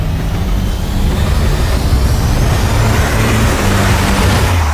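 A Porsche Taycan electric car accelerates with push-to-pass, a loud, steady rush of road and wind noise with a faint rising whine sweeping upward, no talking.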